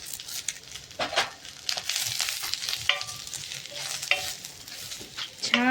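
Whole spices and grated coconut roasting in oil in a pan for a Maharashtrian curry, a soft sizzle under intermittent scraping and stirring strokes of a spoon, with a few short metallic clinks.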